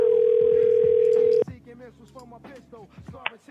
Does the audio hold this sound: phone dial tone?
yes